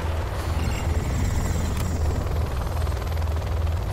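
Comanche gunship helicopter in a Command & Conquer Generals Zero Hour match, a steady loud rotor thrum with a dense low pulsing drone held throughout.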